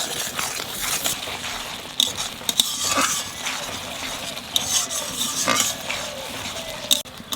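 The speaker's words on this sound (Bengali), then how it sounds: "মশলার সাথে নারকেলটা একটু কষাই নিছি" Tender coconut paste is sautéed with turmeric and spices in a pan, with a spatula scraping and clinking against the metal in irregular strokes and a few sharper knocks.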